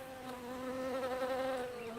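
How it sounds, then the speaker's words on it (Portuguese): Bees buzzing close by, a steady droning hum with a clear tone that wavers slightly in pitch and loudness for a couple of seconds, with no voices. "E então surgiram as abelhas, o que foi um bônus."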